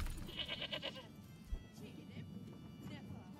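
Goat bleats from the Manor Lords medieval town-building game, a short run of nasal pulsed calls in the first second over a murmuring game ambience, with a soft thump midway and someone talking throughout.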